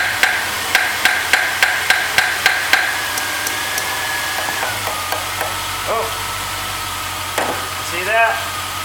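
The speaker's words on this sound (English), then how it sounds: "Tapping on the alternator back here" About a dozen sharp, evenly spaced metallic taps strike the alternator of a Jeep WJ over a steadily idling engine, then the tapping stops and the idle continues with a slight change in pitch, close and fairly loud.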